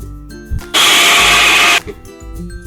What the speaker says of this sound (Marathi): आता मिक्सरला लावते, जरासं पाणी घालते.